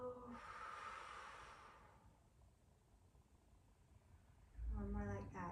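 A single slow exhale from a seated tai chi breathing exercise, a soft breathy rush lasting about two seconds at close range, followed by quiet and then a brief voice near the end.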